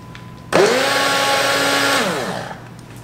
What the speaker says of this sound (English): blender's a little bit of a struggle, so I gotta like shake it up just to get the shit to work